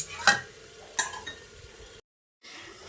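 Potato and pointed gourd korma with cashew paste being stirred in a pan: two sharp clinks of a utensil against the pan over soft scraping, then a brief silence before quiet stirring resumes.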